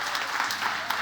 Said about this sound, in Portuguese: Obrigado os 3 gatos pingados que estão aplaudindo